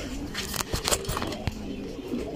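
A flock of pigeons kept for sale coos softly and flaps its wings nearby, with scattered rustles and wingbeats over a low murmuring background.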